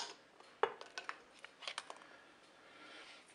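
Eggs are lifted with a spoon into a bowl of cold water, giving faint, close clinks and small taps of metal on crockery, with a sharper knock near the start.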